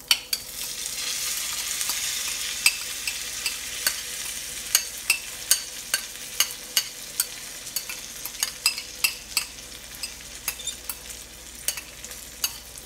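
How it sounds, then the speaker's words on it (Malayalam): Chopped onion and coriander leaves being mixed into cashew nut pachadi, a run of sharp clicks and taps of a spoon against the bowl, quickening over a soft hissing background with no talk. "ഇനി ഇതെല്ലാം നന്നായി ഒന്ന് മിക്സ് ചെയ്തെടുക്കണം."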